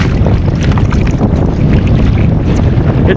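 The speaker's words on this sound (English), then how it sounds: "It really is windy" Strong wind gusts buffet the microphone at Plum Creek Canyon Reservoir in Elwood, Nebraska, a loud, constant roaring rush close by with no break over a few seconds.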